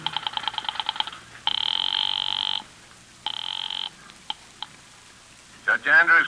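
A telephone sound effect from a classic radio drama: a run of rapid dial clicks, then two long electronic ringing tones separated by a pause, a few faint clicks, and a brief burst of voice-like tone at the end.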